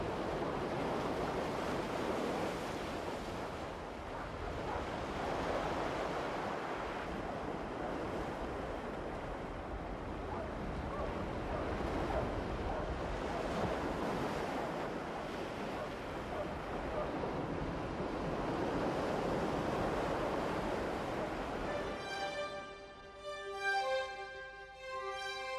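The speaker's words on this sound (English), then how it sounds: "the Mediterranean Sea rolls onto the black sands of the island of Stromboli" Mediterranean Sea waves roll onto the black sand beach of Stromboli island, a continuous broad surf wash with wind, fairly close, and a music-like tonal sound entering near the end.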